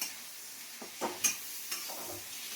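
Spice masala fries and is stirred in a pan for egg curry, with a soft steady sizzle broken by a few scraping stir strokes. It is fairly quiet, with no talking.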